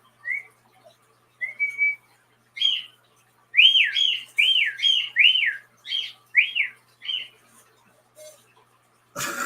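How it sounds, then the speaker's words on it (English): A bird, or someone whistling like one, gives a run of clear up-and-down whistled notes and chirps, distinct and spaced against near silence, ending with a brief click. "Birds are fun."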